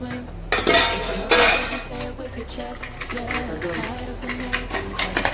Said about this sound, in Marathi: कुकरचं झाकण लावून घ्यायचं.